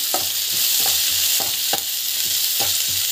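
Chana dal and ginger garlic paste sauté in a hot pan, giving a steady loud sizzle cut by regular scraping stirs of a spoon about every half second, with no voices.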